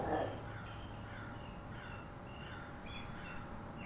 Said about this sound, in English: And those birds are chirping.